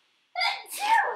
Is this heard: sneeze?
yes